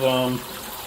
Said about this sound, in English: If you run water in here, the pumpkin guts or the pulp will sink to the bottom